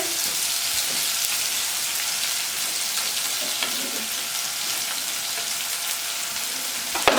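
Green onions sizzle and fry steadily in a pan with turmeric, a loud continuous hiss with a few light stirring scrapes near the end.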